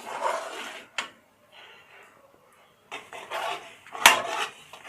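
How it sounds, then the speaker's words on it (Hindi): A ladle stirs thick barfi mixture in a kadhai over low heat, making soft scraping sweeps in bursts with a brief pause and a sharp metallic knock near the end. "चमचा आपको मुस्तकिल चलाते रहना है"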